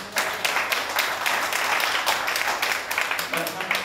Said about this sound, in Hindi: आवाज की सुनाई ताली की